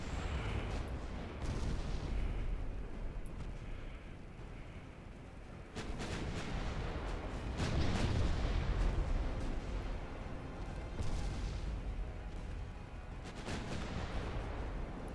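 Naval artillery thunders in Ultimate Admiral Dreadnoughts during a war with Germany, heavy broadside booms landing in irregular clusters over a continuous loud rumble of battle, with no voices.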